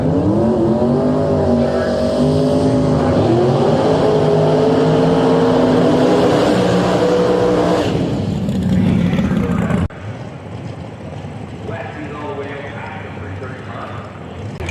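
A twin turbo Nash drag racing car at the start line of a drag strip blares with a loud, rising engine howl that cuts off abruptly, leaving fainter track noise while an announcer talks over it.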